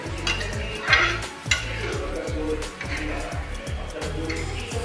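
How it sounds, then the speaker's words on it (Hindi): Panchmel dal stirred in a pan, a spoon scraping in a steady repeated rhythm against the metal over a soft sizzle, close and fairly loud, with a voice talking over it. "हमें 1 मिनट के लिए इसको मिक्स करना है, चलाना है।"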